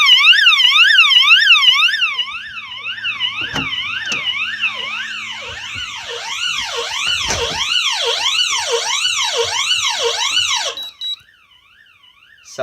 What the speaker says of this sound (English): And this is the outdoor alarm.